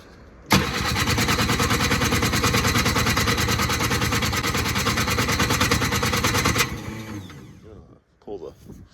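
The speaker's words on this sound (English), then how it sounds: "let's see how well the electric start starts for a cold start" A 1970s ATTEX six-wheeler amphibious vehicle on a cold 15-degree day, its electric starter kicking the engine into a loud, steady sputtering run for about six seconds before it cuts out and brief clatter follows.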